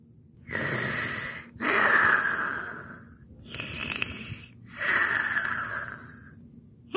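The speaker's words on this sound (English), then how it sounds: "do you hear someone snoring?" Noo Noo, the Teletubbies vacuum-cleaner character, snores in four slow, drawn-out breathy rasps, each swelling and fading with short pauses between, close and fairly loud with no talking.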